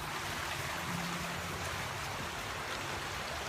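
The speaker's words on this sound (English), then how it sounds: "This is my idea of heaven, coming out in the forest, waterfalls." A forest waterfall roars as a steady, dense broadband rush of falling water, constant and fairly loud with no voices.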